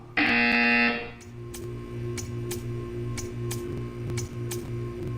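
A Portal 2 test buzzer blares loudly for about a second, then gives way to a steady mechanical hum with a repeating rhythmic pulse and regular faint ticks.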